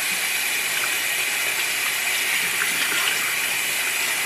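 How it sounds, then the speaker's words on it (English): Steady broadband rush of tap water running continuously while hands are washed in a home kitchen during chicken sandwich cooking, close and fairly loud throughout. "I'm going to go ahead and get my hands washed off real quick"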